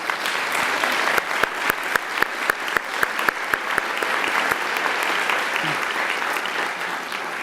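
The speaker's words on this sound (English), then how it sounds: "please join me in a round of applause for these high-achieving students" Applause from an audience at a university honors convocation, steady and sustained over the whole stretch, with sharper individual claps standing out of the dense wash.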